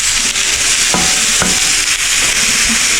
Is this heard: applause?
no